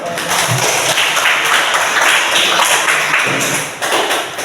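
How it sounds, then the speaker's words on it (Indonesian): Students in a classroom clap together during a lesson, a busy, fairly loud patter of many hands that holds steady and dips briefly near the end. "Beri tepuk tangan dulu"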